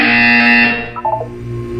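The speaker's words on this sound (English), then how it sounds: "When you hear the buzzer, look up at the ceiling." A loud, steady electronic buzzer tone in Portal 2 sounds for under a second, then cuts off into a short warbling electronic chime and a low hum.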